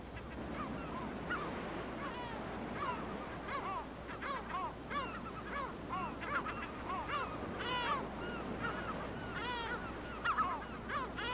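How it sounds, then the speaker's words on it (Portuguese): Black-backed gulls call over rocky island cliffs in a constant, dense chorus of overlapping honking and yelping cries, some near and many farther off, sounding steadily over wind. "o constante barulho das gaivotas disputando as suas ninhadas na densa vegetação"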